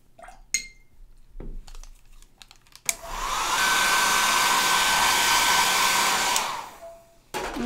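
A hair dryer blows over a watercolor birch tree painting done with salt, a loud steady whooshing roar lasting several seconds before cutting off, with a few light clinks and handling noises before and after.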